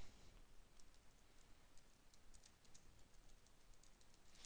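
Quiet, light keyboard typing taps out a string of soft, rapid clicks at close range, with no voice over them.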